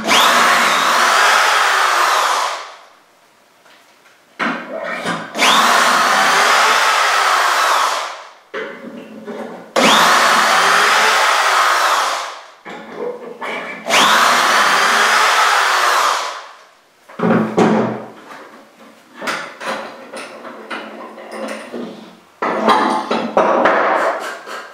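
Power drill boring dowel holes into mitered feet for a Chippendale bookcase, loud whirring bursts of a few seconds each in several passes, separated by quieter clatter and handling noise.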